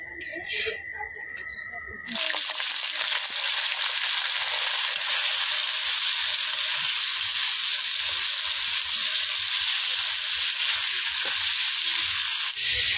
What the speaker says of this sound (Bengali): ফুলকপি আলুর রোস্ট বানানোর জন্য আগে মা ফুলকপি আলুটাকে ভেজে নিই